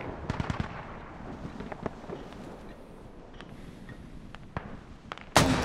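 Mortar shells landing in a video game, a scatter of distant crackling booms and sharp impacts over a low background rumble, ending in one louder close burst.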